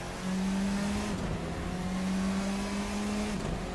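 An F4 race car in Assetto Corsa at Donington drones along close and loud, its small engine holding a steady buzzing pitch with brief dips as it downshifts under braking. No voices.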